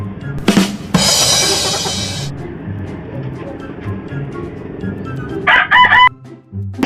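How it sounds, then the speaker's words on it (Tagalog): A young rooster crows loudly up close, a bright sustained call early on followed by a shorter burst near the end, with quiet ambient noise and faint talk between. "napakapugi na ng ating manok na ito"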